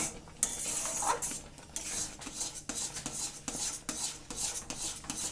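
Semolina is stirred in a pan as it thickens into dough, giving a run of close, fairly quiet scraping and rasping strokes in an uneven rhythm.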